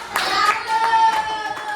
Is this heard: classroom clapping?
yes